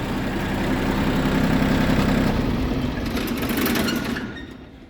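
An ISEKI TU167 mini tractor runs in second gear with its rotary tiller engaged, a loud, steady low engine drone with churning mechanical rumble close by, easing off and fading near the end.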